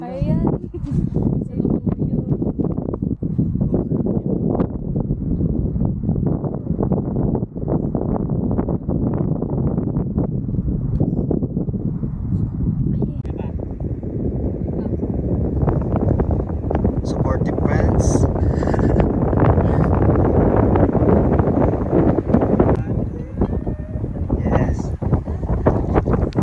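Steady, heavy mountain wind on Mt. Ulap buffets the microphone, roaring continuously and growing stronger toward the end, with faint voices and water sounds underneath.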